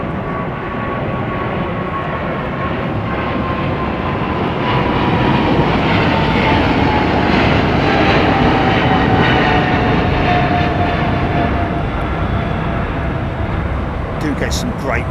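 Jet airliner departing a runway at London Heathrow, a loud broad roar building and sustained for many seconds, heard from the far end of the runway, with a voice speaking over it.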